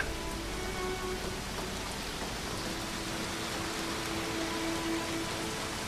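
Steady rain hisses throughout a drama film scene as a dense, even patter of drops on surfaces, with no voices and a faint low hum underneath.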